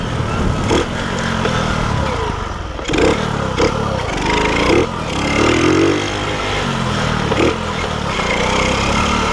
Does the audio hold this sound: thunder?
no